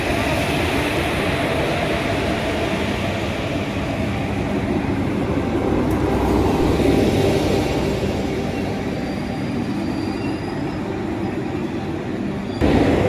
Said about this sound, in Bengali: আর আমার বাঁ পাশে 3 নম্বর প্ল্যাটফর্মে প্রবেশ করছে হাওড়া দীঘা